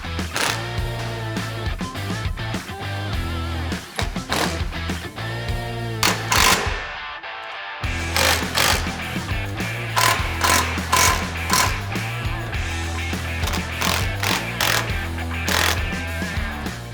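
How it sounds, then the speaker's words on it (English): Mounting hardware for a power flip windshield on a Honda Pioneer UTV is tightened with a ratchet, giving rapid repeated clicking bursts in close succession over a steady background drone, with one brief pause. "So we're just gonna go through, fully tighten all our hardware at this point."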